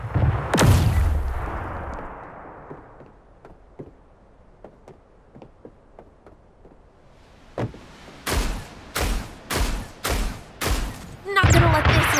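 Gunfire in the mobile game Super Mecha Champions: one heavy blast, then a run of light evenly spaced shots, followed by a steady series of louder, sharper shots at roughly one per second.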